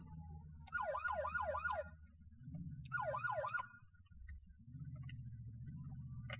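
A police car siren in GTA IV wails in two short bursts of quick rising-falling yelps, clear and moderately loud over a low engine drone.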